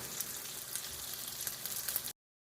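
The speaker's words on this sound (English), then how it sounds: "I'm going to finish searing this off" Beef searing in a hot pan, a continuous hissing sizzle with small crackles, close and fairly quiet, lasting about two seconds before cutting off abruptly.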